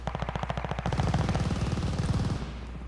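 Automatic gunfire from a mid-range weapon in Call of Duty: Vanguard, a rapid, steady stream of loud shots, sparser at first, then denser for about a second and a half before stopping.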